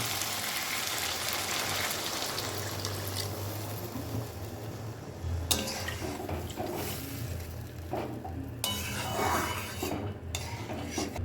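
Pointed gourd and fried shrimp are stirred in a pan, giving a continuous soft scraping and shuffling with faint sizzling and a few sharper utensil knocks against the metal.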